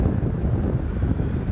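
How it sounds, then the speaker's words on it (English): Strong wind gusts across a hillside cemetery in Port Stanley, Ontario, roaring and buffeting the microphone with a steady, dense low rumble throughout, with no voices. "Okay, it's real windy now."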